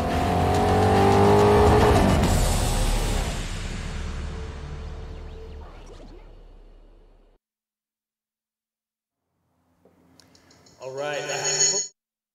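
A 2005 Saleen S7 with a twin-turbo V8 roars loudly at speed, then its engine note fades away into silence, before a short burst of speech near the end.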